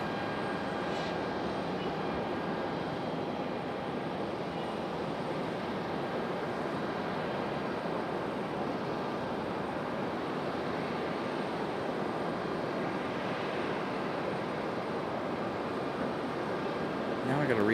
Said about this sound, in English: There's our JetBlue out there at the end of the runway